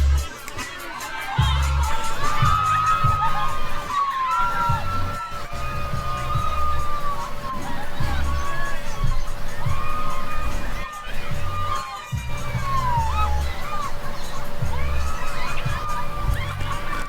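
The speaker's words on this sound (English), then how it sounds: "You hear all that screaming? That's how you know you got them good." Wedding guests scream and cheer on a dance floor as a pop-rock song plays, a continuous loud crowd roar with shrieks rising over the music throughout.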